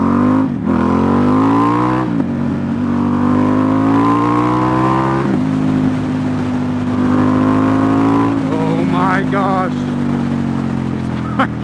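A Ducati XDiavel S motorcycle accelerates hard on a first ride. Its engine note climbs steadily through the gears in a loud, sustained roar, heard up close with a couple of brief shift dips.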